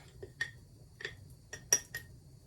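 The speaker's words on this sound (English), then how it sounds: "I'm going to add some cocoa powder." Cocoa powder being spooned into cream cheese in a bowl: a handful of light metallic clinks and taps, spaced irregularly and fairly close, with no talking.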